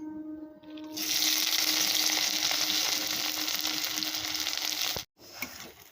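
Onion, chilli and ginger frying in plenty of oil in a wok, a strong continuous sizzle that swells after a second and cuts off sharply near the end.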